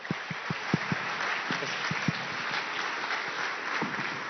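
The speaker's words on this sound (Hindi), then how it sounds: "तालियां सभी कुछ कह रही हैं," A large audience applauds Aamir Khan, a steady wash of clapping heard from a distance and slightly muffled, with a few sharper individual claps standing out.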